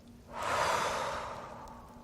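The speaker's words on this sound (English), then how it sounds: "let's take a few deep relaxing breaths" One slow, deep, relaxed breath drawn in and let out again, close and soft, swelling then fading across about two seconds in a quiet room, with no talking.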